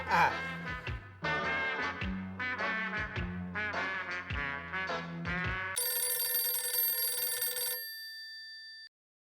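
A telephone rings after a call is placed, a bright electronic trill lasting about two seconds that follows a stretch of music and voices, then stops abruptly.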